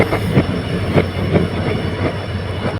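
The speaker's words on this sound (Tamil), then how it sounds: "ஓ என்ற இறைச்சலுடன் இந்த ரயில் குகைக்குள் பயணிக்கிறது" A train roars through a mountain railway tunnel on the Puliyarai–Aryankavu line, a loud, steady rumbling wash with faint rhythmic wheel clacks and high metallic squeal, no voices.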